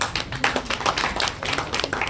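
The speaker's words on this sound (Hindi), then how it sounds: "अपने लिए तालियां बजाएं तो बेहतर है" Audience at a journalism day event in an auditorium claps briefly, a dense patter of hands sustained at moderate level throughout, with no voices over it.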